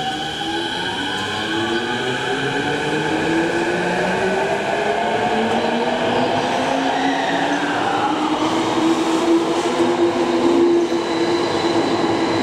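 A Tokyo Metro Tozai Line train pulls away from Toyocho Station toward the depot, with rising and falling motor whines and steady rumbling wheels, close by and continuous.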